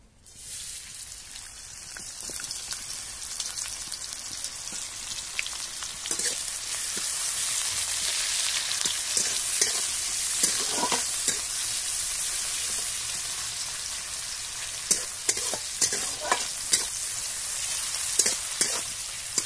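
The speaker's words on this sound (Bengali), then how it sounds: "এবারে আমি পেঁয়াজ কুচিটা দিয়ে দেব।" Chopped onion frying in white oil for a spicy egg and vegetable pasta, giving a steady close sizzle with occasional crackling pops and light stirring scrapes throughout, no talking.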